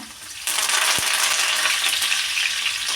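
Cumin, crushed garlic and curry leaves dropped into hot oil for a seasoning, bursting into a loud steady sizzle with a brief stir, close up and without talk.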